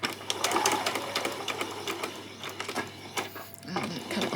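A sewing machine stitches a doll's peasant top in quick rapid bursts of close, rattling needle clatter with short pauses between runs, and a voice talks faintly in the background.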